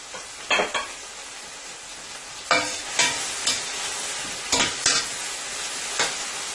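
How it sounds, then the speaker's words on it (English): Food sizzles and fries steadily in a pan, with several sharp bursts of stirring and scraping at irregular intervals. "This is frying up so nicely here."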